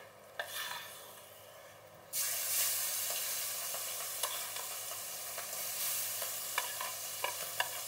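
Marinated pangas fish pieces drop into oil in a hot kadai with a sudden surge of loud, close hissing that settles into a steady sizzle, broken by small pops and a few light utensil clicks.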